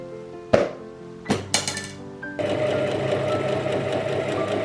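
A sewing machine stitches a t-shirt, starting after a few sharp clicks and clinks of handling, then settling into a steady, close motor hum for the remaining seconds.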